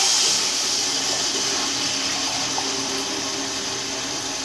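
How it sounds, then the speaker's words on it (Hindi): Water pours steadily into a cooking pot for Punjabi chicken pulao, a continuous close rushing and splashing flow with no pauses and no voices. "अब हम डालेंगे इसमें पानी।"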